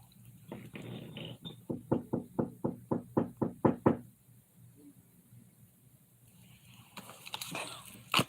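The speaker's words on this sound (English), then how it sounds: "Stop knocking on my door, yo." Rapid knocking on a door, about a dozen firm raps in a steady rhythm, rising slightly in force before stopping, with quiet room tone and some scuffling afterward.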